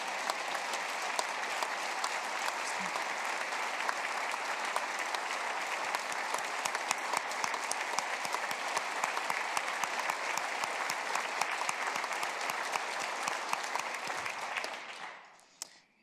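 Sustained audience applause for Senator Castleberry in the South Dakota Capitol during the 2022 State of the State Address, broad even clapping that holds steady and then fades out near the end.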